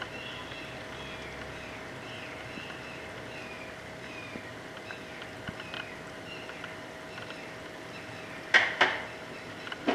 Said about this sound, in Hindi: अच्छे से मिक्स कर लें इसे आप।